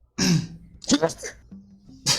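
A sharp sneeze bursts out during a tabletop role-playing game session, followed by a short throat-clearing cough and brief voices, all close and fairly loud.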